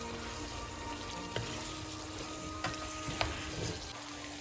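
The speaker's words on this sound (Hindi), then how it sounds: "ये जो हमारा मैरिनेटेड चिकन है इसको मैंने ऐड कर लिया" Marinated chicken sizzling in a pot for murgh chanay, a steady close frying crackle with a few soft clicks and stirring knocks, no talking.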